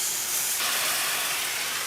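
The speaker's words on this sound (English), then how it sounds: "Sounds like it's shallow frying." Tuna steaks shallow frying in oil in a pan give off a steady, quiet hiss and sizzle, unbroken and with no voices over it.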